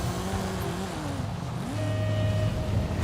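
Chevrolet Camaro engine in Forza Horizon 5, a steady droning tone that climbs and dips through gear changes and then settles into a deeper, louder rumble, with no talk over it.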